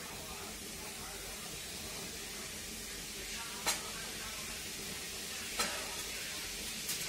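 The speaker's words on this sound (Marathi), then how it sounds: "आपण त्याच्यात तेल टाकू थोडंसं परतण्यासाठी." Oil sizzling gently in a pan on the stove before onions are fried, a steady soft hiss that stays faint throughout, with two brief sharp clicks partway through.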